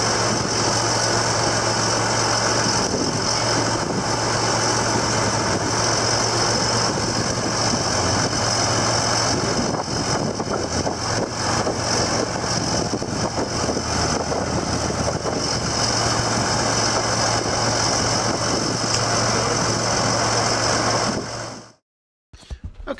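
A tractor engine idles steadily and close by, a loud constant diesel rumble with a hum, cutting out briefly at the very end.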